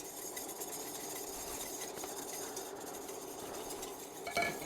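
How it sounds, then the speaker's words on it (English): Flour being stirred into melted butter for a roux in a chowder pot, a quiet continuous hiss with soft scraping, ending in a brief louder clink of utensil against pan. "So I'm going to add that in slowly and just keep stirring that around."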